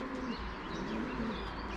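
Racing pigeons coo softly in low, repeated murmurs over a busy outdoor background with faint chirping, during a pigeon race in Szczecin.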